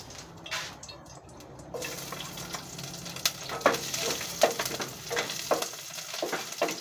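Cooking oil sizzles and crackles in a frying pan, with intermittent scraping and stirring clicks from a utensil. The sound is close, moderately quiet and continuous, and no one speaks.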